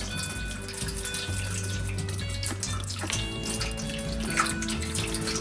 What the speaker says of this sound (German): Warmes Wasser gleich in die Schale unten rein.